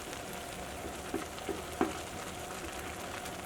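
Masala noodles frying and being stirred in a pan, a steady soft sizzle with a few brief scraping clinks from the spoon, fairly close and moderate in level, no voices.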